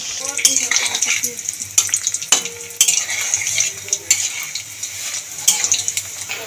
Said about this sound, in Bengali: লো ফ্লেমে ভাজবো, এদিক ওদিক করে ভালো করে।